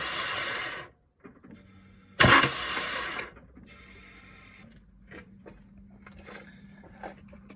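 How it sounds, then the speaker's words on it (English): A Ford Fiesta engine turned by hand to move the timing belt, giving bursts of ratcheting, mechanical clicking separated by pauses, one loud close clatter standing out, with quieter turning noises afterward. "So that kind of action, just cranking the belt a couple of times, hopefully will have given you an idea."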